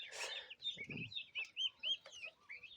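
A hen clucks softly while her small chicks peep in high, repeated chirps nearby, a quiet farmyard scene.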